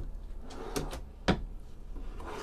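Kitchen drawers in a 2023 Regency Brougham 25IB B+/C-class RV slide open and shut, giving a few sharp close-up clacks and thumps, the loudest near the middle, over a low room hum.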